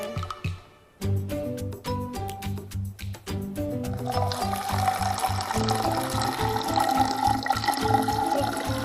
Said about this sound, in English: And you put the water in.